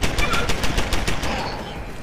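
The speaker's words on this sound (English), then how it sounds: "Shoot at cop." A turret in Deus Ex: Human Revolution fires a steady rapid stream of gunshots at a police officer, loud and close, with the rhythm tapering off toward the end.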